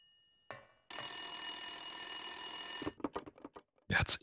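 Telephone ringing in the Silent Hill 1 video game: a loud, sustained electronic ring lasting about two seconds, preceded by a short tone and followed by brief clicks and noises, with no talk over it.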